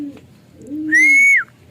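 A single blue bar racing pigeon returning from a training flight in San Rafael gives a close, clear call, with a soft low coo followed by a bright sustained whistle-like note lasting about half a second.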